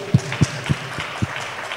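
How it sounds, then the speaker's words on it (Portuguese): Congregation clapping during a church sermon: a handful of sharp, evenly spaced claps in a steady rhythm, near and distinct over a low background hum. "Você pode dar uma salva de palmas para o Senhor Jesus?"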